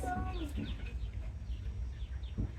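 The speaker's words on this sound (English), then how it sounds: "Little chickens." Little chickens clucking softly in a park in Varadero, Cuba, faint short clucks and chirps heard amid low ambient rumble and background murmur.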